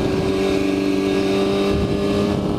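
A motorcycle idles and revs unsteadily while its rider struggles to get it into the right gear, a continuous loud engine drone with a steady hum.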